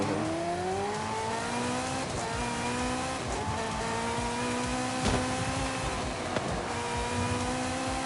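Racing video game car engine heard from the interior view, a steady loud drone with rising and falling revs through gear changes, occasional tire squeal and skid bursts, no talking.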